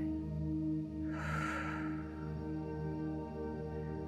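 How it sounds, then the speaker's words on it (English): A single slow, controlled inhale of air, a soft airy breath lasting under a second over a faint steady background hum, quiet and close. "as you're breathing in this controlled manner"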